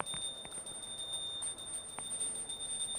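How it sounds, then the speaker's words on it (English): A small hand bell rings in repeated strikes during a Hindu Arati ritual of waving offerings, its bright metallic tone steady and moderately near against a background of ambient room noise. "please ring the bell as you do so."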